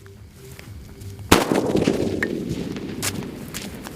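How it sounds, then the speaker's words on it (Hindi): A Bruce Lee sutli firecracker, a Diwali firework, goes off with one sharp loud bang after a quiet start, followed by a long rumbling, crackling decay and a few faint later pops. "टेस्ट करता हमारे ब्रूस ली की सुतली का और देखते हैं ये कैसी चलती है"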